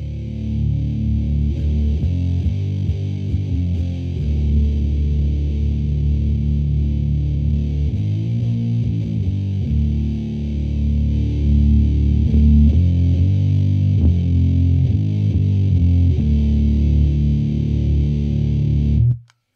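Electric guitar played through a Way Huge Swollen Pickle Mk2 fuzz pedal, thick and sustained distorted tones ringing out in chords and notes with no talking.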